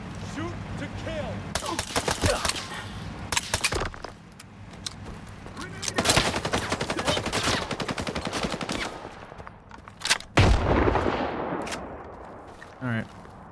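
Bursts of gunfire in the shooter game Stalker 2, with loud repeated volleys and rapid automatic strings separated by brief pauses, alongside mechanical clatter and a voice speaking between shots.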